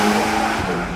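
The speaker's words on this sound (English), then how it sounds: "this is the 2023 version of the Ferrari Roman Coupe." A 2023 Ferrari Roma coupe driving hard on the Goodwood Festival of Speed course, its engine loud and steady with a continuous, close roar filling the whole moment.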